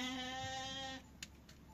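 A goat bleats in a drawn-out, wavering cry lasting about a second on a Turkish village livestock farm, followed by faint farmyard shuffling.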